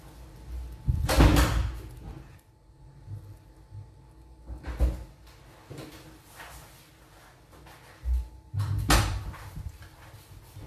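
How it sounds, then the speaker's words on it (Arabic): Doors are shut one after another indoors during a Ramadan lockdown, several separate thuds and bangs spaced a few seconds apart, fairly close, with quiet room tone between and no talk. "لحظه برك نسكر بيبان ونجيكم."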